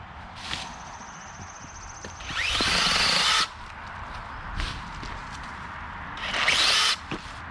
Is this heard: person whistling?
no